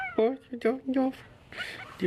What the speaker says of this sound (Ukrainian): У нас тут котики нападають на нас сусідські.